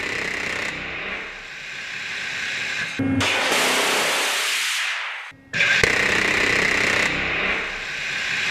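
Long roaring bursts of an A-10 Warthog's 30 mm rotary cannon firing at about 3,900 rounds per minute, a continuous buzzing rip, broken by short gaps between bursts.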